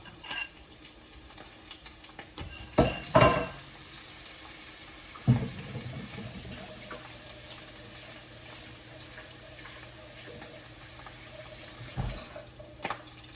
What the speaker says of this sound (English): let me wash my hands, y'all.